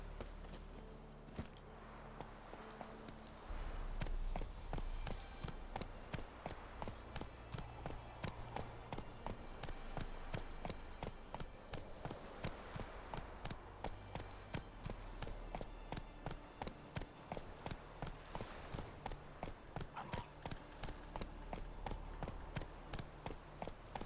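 Hooves pound in a fast, steady rhythm as Roach the horse gallops in The Witcher 3, the clip-clop beats continuing evenly over a low ambient game soundtrack.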